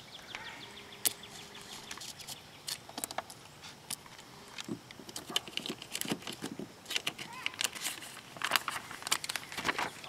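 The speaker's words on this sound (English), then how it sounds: "So now we cut it down on the bottom there." Window tint film being cut along the bottom edge, with crisp crinkling and scraping of the plastic sheet in irregular quick bursts, close by with no talk.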